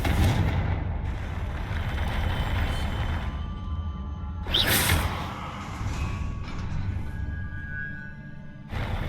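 In Hogwarts Legacy a Confringo fire spell is cast, giving a fiery whooshing burst at mid-clip over rumbling background game sound, with a smaller swell near the end.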